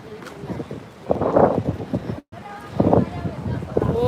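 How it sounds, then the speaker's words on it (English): Gusty wind buffets the microphone atop the old city wall of Cartagena, Colombia, in uneven low rushes, with someone talking over it. "Kind of hard to avoid the wind up here."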